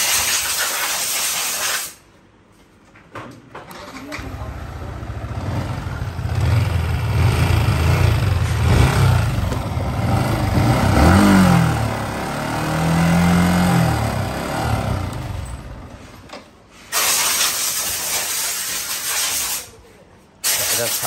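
A Yamaha R15 motorcycle from Comilla with a bad engine sound runs in a workshop, a loud steady engine drone with hiss and rough mechanical noise, dropping out briefly at the start and near the end.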